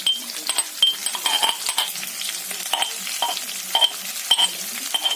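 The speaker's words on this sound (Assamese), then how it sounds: "এয়া দেখিছে আদা ৰচুন পেষ্ট খিনি মই ইয়াত এতিয়া ঢালি দিম।" Pork frying in a pan with ginger garlic paste, a steady close sizzle broken by repeated scraping and clinking as it is stirred, with no talking.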